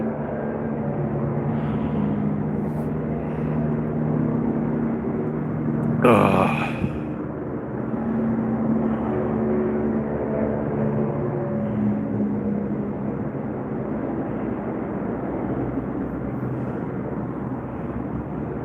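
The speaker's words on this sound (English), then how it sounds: "The tour helicopters are coming back." Tour helicopters fly over Las Vegas, a steady droning engine and rotor hum that swells and lingers for the whole stretch, with a person talking over it.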